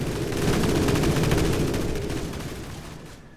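Loud, rapid automatic gunfire in the Call of Duty MW3 video game rattles continuously, then tapers off toward the end with no voices.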